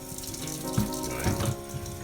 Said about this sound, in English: then you fill the bottle of water.